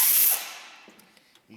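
Lubricant spray hissing onto a bolt of a Subaru EJ25D 2.5 DOHC engine during timing belt work, a loud short burst that fades out, followed by faint tool clicks.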